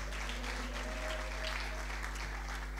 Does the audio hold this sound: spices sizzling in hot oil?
no